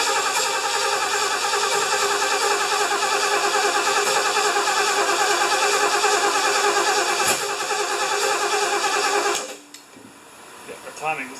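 A 1975 Lincoln engine cranks and catches, with a loud, rhythmic starter churn running for about nine seconds before it cuts out, followed by quieter rattles and voices nearby.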